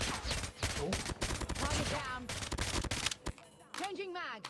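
A Chicom QCW-05 submachine gun fires in Call of Duty Mobile: rapid, close automatic bursts repeat in quick strings, while someone talks over much of the shooting.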